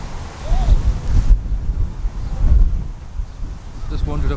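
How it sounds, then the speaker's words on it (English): Strong gusty wind buffeting the microphone outdoors near a castle, a loud rumbling roar that swells and eases, with a voice briefly heard underneath. "Sorry for the wind noise, but it is well windy."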